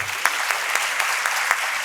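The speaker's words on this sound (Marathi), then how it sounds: "सर्वांनी एकदा जोरदार टाळी वाजवायची आहे" Audience clapping at a college youth festival closing ceremony, a brief dense burst of applause from a crowd, steady and fairly loud throughout.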